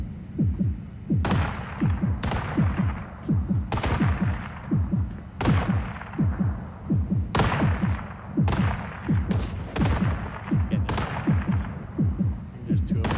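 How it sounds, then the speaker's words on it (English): Gunfire in the video game Fractured Lands, a string of sharp single shots at an irregular pace, each with a long echoing tail, loud over a low rumbling background. "just shooting at us from over here"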